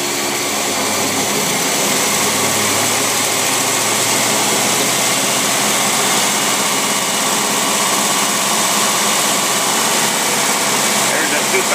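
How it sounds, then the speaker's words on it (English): A carbureted engine held at raised revs near 2,000 RPM roars steadily and loud, a constant broadband engine drone with no breaks throughout. "I'm going to have to manually rev it up."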